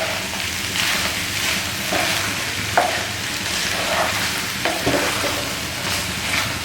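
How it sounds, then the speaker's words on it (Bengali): Vegetables and lentil dumplings (bori) stirred in a frying pan, a steady close sizzle with scraping strokes of a spoon recurring every second or so, no talking. "এবার আমি বড়িগুলো দিয়ে দিচ্ছি। এবার ভালো করে মিশিয়ে নেব।"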